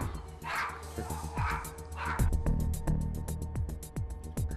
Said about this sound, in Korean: 제작진을 향해 끊임없이 짖고 난리였죠